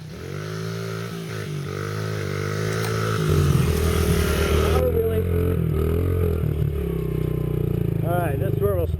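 A Honda CRF 50 dirt bike engine buzzes at the base of a hill climb, idling then revving higher and louder, close by, with a voice talking over it.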